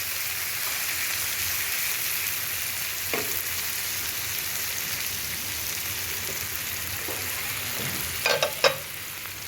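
Parse fish frying in a pan over low heat, a steady soft sizzle like light rain that runs throughout, with a few brief clicks and a short clatter near the end.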